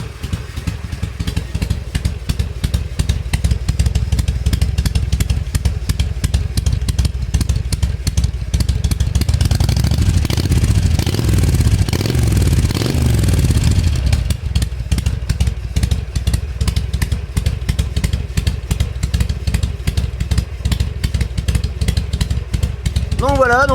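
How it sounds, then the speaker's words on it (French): A 2006 Harley-Davidson Sportster 883 R engine idles steadily with a rapid, even putter, loud and close, briefly thickening into a rougher rumble midway. "maintenant on va écouter le bruit du ralenti"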